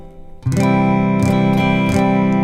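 An acoustic guitar strums open chords in a steady rhythm, ringing sustained strokes, close and clear with no voices.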